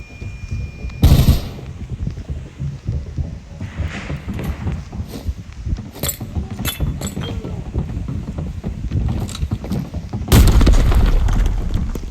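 A loud explosion blasts out in the Arena Breakout shooter, a sharp boom at the start and another heavy blast near the end, with gunfire and game noise in between.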